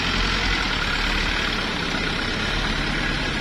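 Heavy truck engine labouring steadily on a steep uphill climb, a dense, constant low rumble and roar close by with no pauses and no talking.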